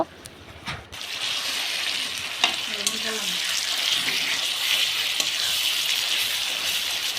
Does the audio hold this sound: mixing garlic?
yes